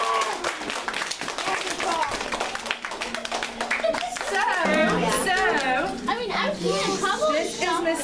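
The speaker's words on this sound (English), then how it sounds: "So give yourself a big round of applause" Students in a school class clap and cheer together, mixed clapping with children's excited voices and chatter rising over it, lively and close throughout.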